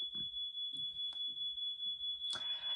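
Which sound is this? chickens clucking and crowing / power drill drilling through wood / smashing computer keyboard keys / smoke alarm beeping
smoke alarm beeping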